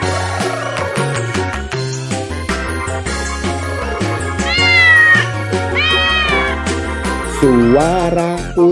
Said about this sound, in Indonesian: Suara kucing meong meong meong, meong meong meong, meong meong meong.